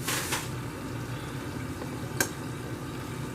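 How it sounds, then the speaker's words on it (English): Butter sizzling in a hot pan while a diner-style patty melt cooks, a steady, fairly loud frying hiss with a brief scrape at the start and a single small clink partway through. "go ahead and add your butter to the top. Be careful around this hot pan"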